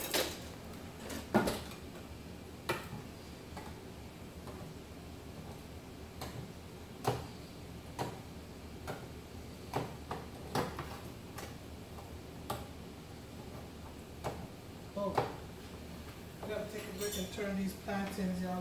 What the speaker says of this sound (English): I forgot to open the butter beans